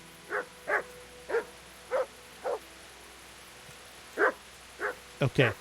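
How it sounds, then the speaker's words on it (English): A dog barks repeatedly in the video game Kingdom Come: Deliverance, about ten sharp, fairly close barks, evenly spaced at first and then a quicker cluster at the end, over a quiet background. "We got a puppy dog here that we have to worry about."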